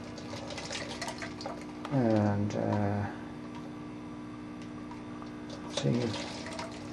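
An airlift pump pushes water through a 7/16 tube on a windowfarm rig, with faint gurgling and trickling under a steady hum, while someone talks over it in two short bursts.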